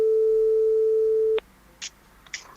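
Telephone call tone heard through Xiaomi Air2 SE earbuds during a phone call test, a single steady electronic beep lasting over a second, then brief faint clicks and soft noises.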